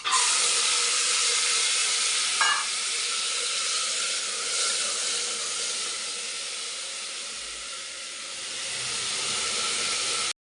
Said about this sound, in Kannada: ಇದಕ್ಕೆ ಕಾಳು ಹಾಕ್ತಾಯಿದ್ದೀನಿ.